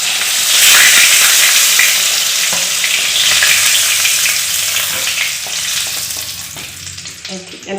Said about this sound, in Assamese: এতিয়া আমাৰ পটলখিনি প্ৰায় ফ্ৰাই হৈ গৈছে।